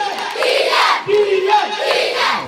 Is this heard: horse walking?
no